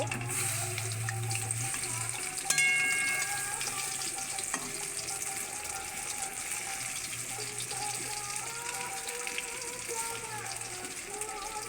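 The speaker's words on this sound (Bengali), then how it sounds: "এইভাবে ডালের বড়াগুলো সব ভেজে নেব।" Lentil fritters (dal bora with potato) fry in hot oil, a steady, close, even sizzle with a brief clink near the start and faint stirring throughout, no talking.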